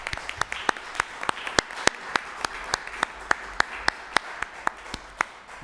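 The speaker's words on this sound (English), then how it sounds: "Let's give them a big round of applause." Applause from a city council meeting audience, a background wash of clapping punctuated by sharp, loud, regularly spaced claps from one nearby pair of hands.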